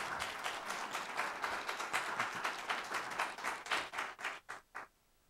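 An audience claps through a round of applause at an evening community forum, steady and fairly close before thinning into a few last separate claps and silence.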